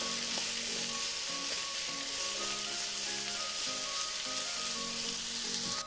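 Green and red bell peppers cook in a pan while being stirred, giving a steady, loud, close sizzle that runs unbroken throughout. Soft scraping strokes from the stirring sit on top of the sizzle, and no one speaks.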